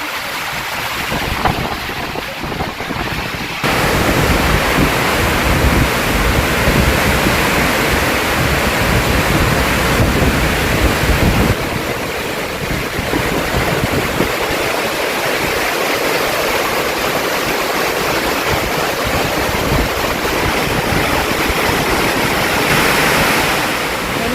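A strong wind and heavy rainstorm batter a vehicle during a drive, making a dense, loud, unbroken roar of rain and gusts that barely changes over the whole stretch.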